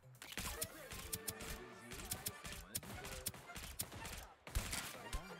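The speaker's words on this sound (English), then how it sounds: "They are shooting above me, yeah." Video game gunfire, with rapid bursts of shots fired from above, a fairly quiet but busy clatter of repeated cracks and volleys that continues throughout.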